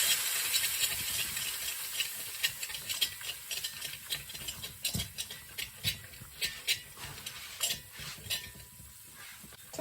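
A whisk scrapes and clicks rhythmically against a pan as flour is worked into melted butter for a roux, soft repeated strokes over a faint hiss, close and fairly quiet.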